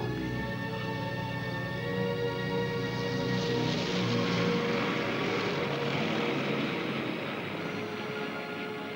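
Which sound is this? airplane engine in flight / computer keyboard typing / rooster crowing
airplane engine in flight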